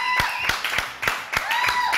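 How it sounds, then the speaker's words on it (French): A television studio audience applauding, a steady wash of clapping with a few sharper individual claps standing out, loud and close throughout. "On les applaudit très très fort."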